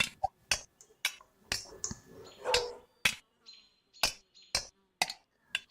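Dogs in the real-time strategy game 0 A.D. during a competitive match, heard as a series of short, sharp barks and yelps spaced irregularly, fairly close, with no talk over them.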